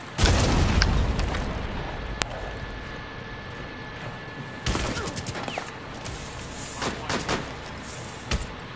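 A C4 charge detonates in a first-person shooter video game with a sharp broadband boom, followed by scattered bursts of gunfire and further blasts in a busy game mix.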